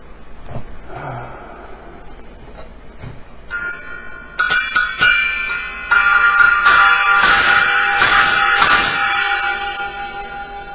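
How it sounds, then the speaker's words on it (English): A plain brass plate shaped like a cymbal is struck several times, starting with soft taps and then building into loud, shimmering, chimey bell-like rings that layer up and sustain before slowly fading. "It's just a plain piece of brass shaped like a cymbal."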